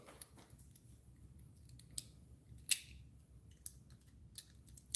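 Scissors trim a coolant hose on a GM 1.4L engine, a few sharp isolated snips spaced irregularly against a quiet background, close and faint.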